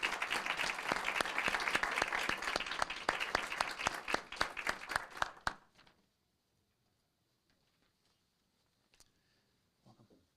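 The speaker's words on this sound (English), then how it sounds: "If we could give them a big round of applause." Applause breaks out at a city council meeting for fire station personnel, a loud burst of crowd clapping that fades out after about five seconds into near silence with a few faint knocks.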